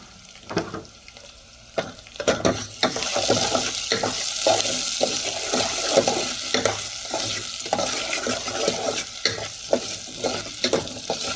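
Ginger, garlic and chili sizzle in hot oil while a spoon stirs and scrapes the pan in repeated strokes, close and busy.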